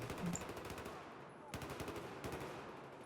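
Battlefield 4 multiplayer combat with an M320 grenade launcher in play: sharp, rapid bursts of gunfire crackle throughout, with two heavier broadband blasts punching through partway along.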